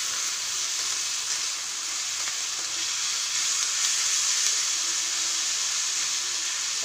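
Onions fry in a pan, giving a steady, bright sizzle and hiss that holds evenly close up, with no voices over it.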